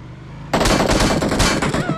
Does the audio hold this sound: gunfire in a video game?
yes